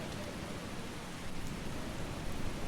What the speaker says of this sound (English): It's really loud rain.